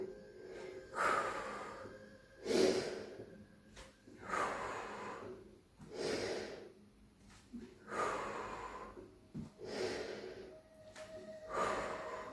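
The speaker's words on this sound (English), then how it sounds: "we breathe out, we breathe in, we breathe out and in" Pilates breathing: five or six slow, audible breaths in and out, each swelling and fading in an even rhythm, close and fairly quiet.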